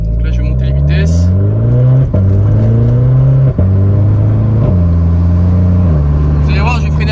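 A Renault Clio 4 RS in sport manual mode revs hard through a run of upshifts, its loud, close engine note climbing and then dropping in steps with each gear change, while someone speaks briefly.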